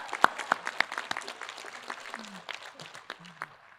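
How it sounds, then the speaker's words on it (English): Scattered applause from a graduation commencement audience, sharp separate claps with one or two voices, fairly faint and spread out rather than a full ovation. "okay, well, applaud that."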